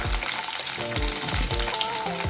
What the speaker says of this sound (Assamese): আজি এইখিনি মই ধুনীয়াকৈ ভাজি লম এতিয়া